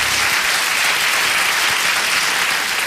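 Studio applause on a Brazilian morning radio show after a birthday jingle, a short burst of continuous dense clapping, loud and alone.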